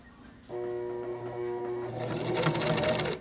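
A sewing machine stitching a lanyard starts up after a short pause and runs as a steady close whir, growing busier and louder toward the end as the needle drives a few stitches.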